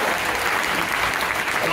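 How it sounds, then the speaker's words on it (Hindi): An audience breaks into steady, dense applause, many hands clapping together in a continuous wash of sound with no break. "अरे तालियां तो बजा ले"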